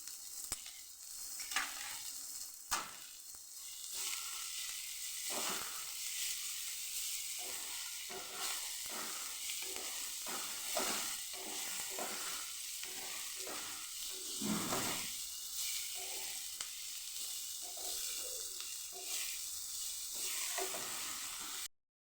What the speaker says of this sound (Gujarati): અહીંયા આપણે આદુ મરચાંની પેસ્ટ પણ ઉમેરી દઈશું સાથે સાતડવામાં